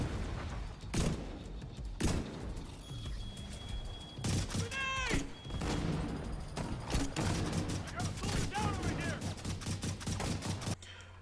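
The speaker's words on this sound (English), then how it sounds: "let's take a little bit of a look at the grenade launcher in action" Grenade launcher shots and explosions from The Division 2 boom repeatedly through loud game combat, mixed with gunfire bursts and chatter, with a persistent dense din throughout.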